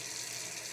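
Steady running water from a sink tap, an even hiss of flow pouring into the basin, constant and fairly quiet across the short span with no voices.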